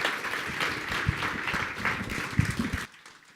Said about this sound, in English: Can we a round of applause for Dr. Laprairie, please?